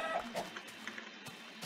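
Several short, sharp clucks from a Minecraft chicken, spaced irregularly over under two seconds at moderate volume against a quiet background.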